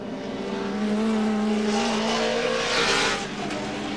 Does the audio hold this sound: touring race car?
yes